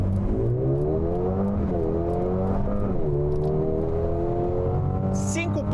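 A car launched hard in Race Start launch mode under Sport Plus, engine roaring loudly as it climbs through several rising sweeps with quick gear shifts, close and continuous throughout.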